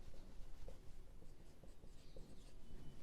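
Chalk or marker scratches across a board during a geometry lesson, a continuous close scraping of strokes with small rhythmic variations and no talking.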